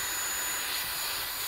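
A MooSoo handheld vacuum runs at its higher 12 kPa suction setting, giving a steady, loud, close whooshing airflow roar with a high whine, continuous and without talk.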